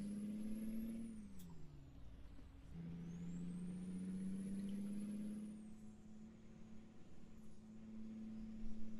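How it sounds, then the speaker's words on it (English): A heavy truck engine in American Truck Simulator drones steadily, its pitch dropping and climbing as gears shift, with a brief hiss like an air brake; no talking. "this truck has good sounds. It's sounds pretty realistic. The shifting's nice."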